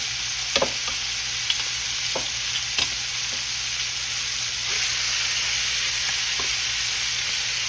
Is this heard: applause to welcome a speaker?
no